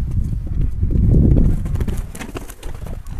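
Horse hooves clip-clop steadily during ulak riding, close and fairly loud, with a rough outdoor rumble beneath and no talking.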